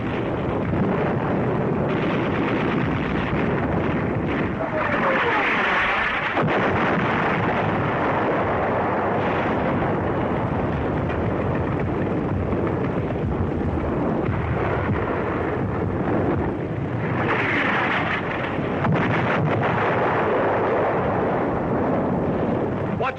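Artillery ranging on tanks in the North African desert with the U.S. Army in 1943: a long, heavy rumble of distant booms and bursts through a wind-buffeted old film soundtrack, with no speech.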